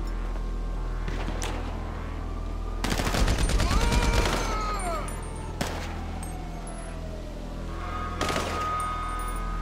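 Thompson submachine gun in GTA V firing in loud sustained bursts, one long rapid stream followed by shorter volleys, with game noise around it and no speech over the gunfire.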